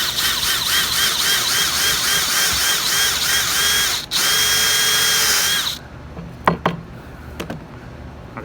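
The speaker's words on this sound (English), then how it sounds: "I can take the drill, and I got the big bit on right here, and I'm just going to drill straight in" Power drill with a large bit boring straight into wood, a steady loud whine for about six seconds with a brief dip midway, then stopping, followed by a few sharp knocks and handling clatter.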